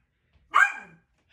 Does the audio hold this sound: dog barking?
yes